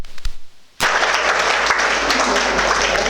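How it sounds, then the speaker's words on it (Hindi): Sudden burst of dense applause from a gathered crowd at a religious discourse by a Jain acharya in Krishna Nagar, starting abruptly after a brief quiet and sustaining steadily loud to the end. "जोर से ताली बजाओ।"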